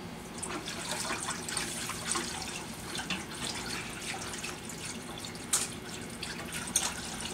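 Liquid for enchilada sauce poured into a pot during stirring, a continuous near trickle and splash with a few sharper utensil clicks, going on quietly with no voices.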